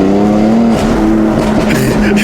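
A modified BMW M4 pulls hard in second gear, its engine a loud, close, rising drone with a steady harmonic whine and some road roar, and no talk over it.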